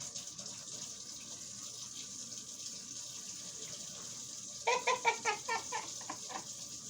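A kitchen tap runs steadily to wet a cellulose and wood-pulp sponge, a soft continuous hiss of flowing water with a brief burst of splashing and squelching near the end, no talking.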